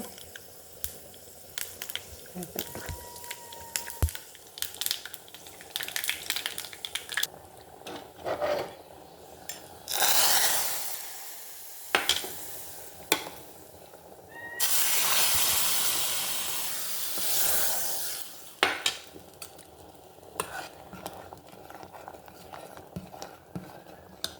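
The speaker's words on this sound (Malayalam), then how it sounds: "പുളിശ്ശേരിക്ക് താളിക്കാൻ കടുക് ഇടുക." Mustard seeds sizzle and spit in hot oil as a tempering for pulissery, a soft hissing crackle with two louder surges of steam partway through, plus scattered small clatters and no talking.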